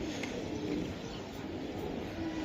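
Racing pigeon cooing softly near at hand, a low steady murmur with faint coos over quiet background.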